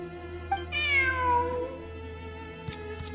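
A cartoonish cat meows once in the video game Genshin Impact, a clear drawn-out mew over a steady background music bed, followed by a couple of soft clicks.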